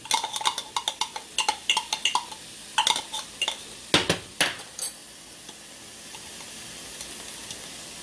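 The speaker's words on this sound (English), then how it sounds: "So we're just letting the vegetables cook a little bit. So we're sauteing them." Vegetables sauté in a pan for vegan red beans and rice, with repeated close utensil scrapes and clinks against the pan over a faint sizzle, the clatter easing off toward the end.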